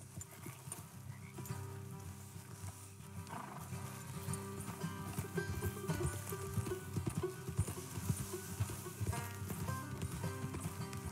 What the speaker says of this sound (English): jump on the horse